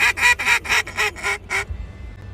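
A duck call blown in a short series of about seven loud, nasal quacks imitating ducks, evenly spaced and tapering off, close and alone.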